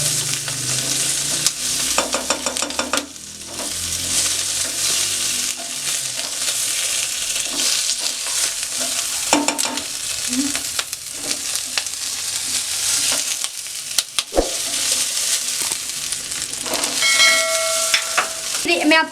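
Green chillies sizzle and fry steadily in a pan over a low flame, with repeated scraping stirs of a spoon, the close hiss continuous and occasional sharper crackles rising near the end.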